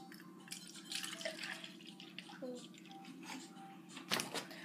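Milk pours from a carton into a cup with a soft, steady liquid trickle and splash, fairly quiet, over a constant low hum with a few faint voices in the background.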